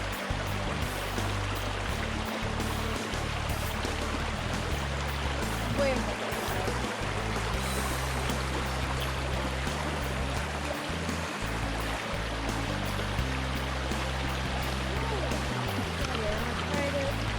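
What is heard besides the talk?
flowing water on a trail near a waterfall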